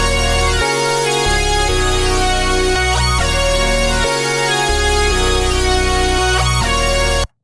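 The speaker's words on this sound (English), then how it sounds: "the other Serum is playing chords that just sound like this by themselves" Supersaw chords from a Serum synth sustain in long, bright, dense stacks. The chords shift every second or so over a steady low bass and play loud, alone, then cut off abruptly at the end.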